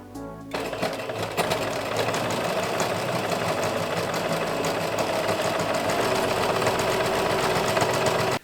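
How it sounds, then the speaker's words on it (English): A sewing machine stitches fabric edges with right sides together, running in one continuous fast burst for several seconds after a brief start. "Right sides together, I sew it to the edges."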